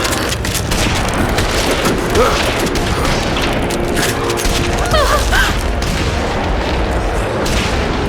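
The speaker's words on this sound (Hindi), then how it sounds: "गोली चलाओ।" Dense, continuous loud rumble with repeated booms and bursts of firing, like heavy gunfire or artillery, with no clear speech.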